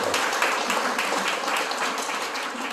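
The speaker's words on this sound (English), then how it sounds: "Let's give them a round of applause" Steady applause from an audience at a Tamil cultural awards ceremony, dense even clapping held at full strength throughout with no voices over it.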